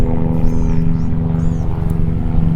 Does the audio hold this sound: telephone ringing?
no